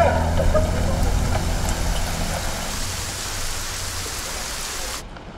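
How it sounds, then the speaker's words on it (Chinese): A sudden rain shower pours down outdoors at night, a steady broadband hiss of rain on surfaces that stays loud throughout and cuts off abruptly near the end. "下雨了！"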